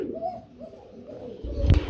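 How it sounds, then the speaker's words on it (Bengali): Pigeons at a wholesale pigeon market give soft, low cooing calls close by, followed by a brief louder thump near the end. "এইখানে আমরা দেখতে পাচ্ছি আরেক জোড়া কবুতর আছে ভাই"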